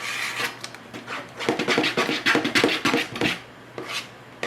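A spoon rasps and scrapes around a bowl as buttermilk batter is stirred, with rhythmic scraping strokes close up, strongest in the middle stretch, and no talk.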